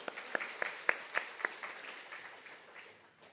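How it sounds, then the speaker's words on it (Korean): A congregation applauds at a Sunday evening worship service in a church during a Sunday school presentation. A few sharp, separate claps stand out early over a dense wash of clapping, which thins and fades toward the end. "영광의 박수 올려드리겠습니다"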